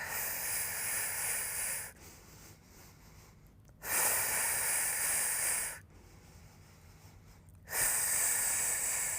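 Loud, close breathing during a Pilates plank: long hissing breaths alternating in and out at an even pace, about two seconds each, with no talking.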